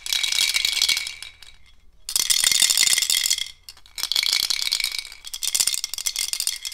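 Homemade Montessori sound cylinders shaken in bursts, giving a bright gritty rattle of loose filling inside small containers. Four rapid shaking spells are separated by brief pauses, close and fairly loud, with no talking.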